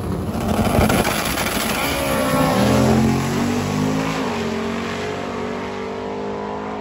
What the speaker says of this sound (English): One of our unique cars, right-hand drive convertible Beetle, does wheelies. It's really fast.